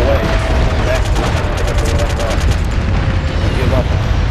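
Airstrike explosions in the video game MAG pound continuously with booming blasts and rattling gunfire, loud and dense throughout, with a voice speaking under the barrage.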